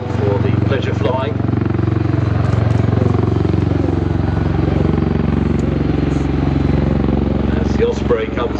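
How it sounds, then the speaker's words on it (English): Helicopters take off and fly at the Farnborough Airshow, a steady loud rotor and engine drone filling the whole stretch with a constant throbbing beat, while a voice talks over it. "3 more helicopters airborne for the pleasure flying."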